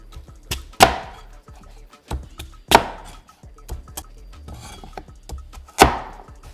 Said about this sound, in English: I'm gonna chop up some celery, a Japanese sweet potato